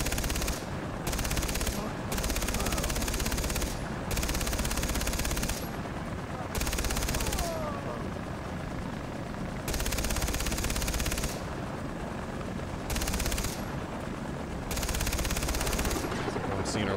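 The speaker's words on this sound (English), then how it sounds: "Riley, what are we being shot by, dude?" Machine gun fire in the video game Far Cry 3 during a helicopter chase, loud rattling bursts repeating every couple of seconds with short pauses between them over a continuous engine drone.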